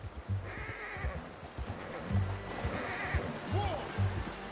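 A horse in the Red Dead Redemption 2 game gives short neighs and snorts amid hoofbeats and ambient game sound, with a rising whinny near the end, partly under voices talking.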